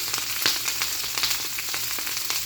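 Vegetables dropped into a hot pan for a chicken and cabbage stir fry, a dense bright sizzle with crackling pops, loud and close, no talking.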